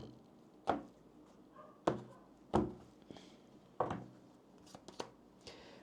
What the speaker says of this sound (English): let me just get a shuffle in here. Split the deck